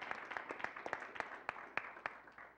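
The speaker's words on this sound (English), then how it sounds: "let's give ourselves a round of applause for being here this morning" A small audience at a men's breakfast meeting claps, a quiet, somewhat distant round of uneven handclaps with a few sharper claps standing out, lasting just a few seconds.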